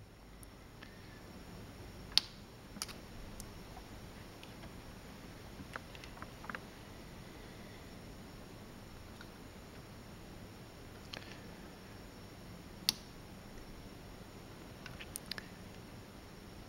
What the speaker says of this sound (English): What you hear clicking is the buttons on the opposite side of the PCB which I now pressing against the table